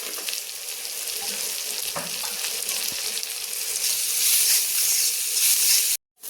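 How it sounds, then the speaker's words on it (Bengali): Onion frying in a pan, a continuous close sizzle and hiss that swells slightly toward the end before cutting off abruptly, with no talking. "তো এখানে পেঁয়াজটা ভাজা হয়ে গেছে।"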